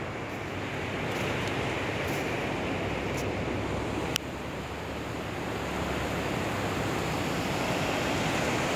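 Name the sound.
ocean waves lapping at Vinh Hai beach, Hue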